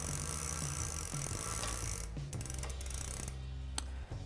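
Bicycle freewheel clicking as the pedals turn backwards on a newly assembled bike, a rapid steady ratcheting tick close by over a constant mechanical whir, with no talk.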